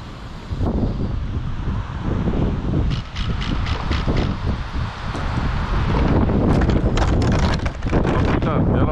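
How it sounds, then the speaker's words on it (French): Strong outdoor wind buffeting a microphone during a trial run of a 1:8 scale pan car, a loud, constant rumbling roar with gusty bursts, while voices talk in French over it. "Je pense qu'il y a trop de vent aujourd'hui."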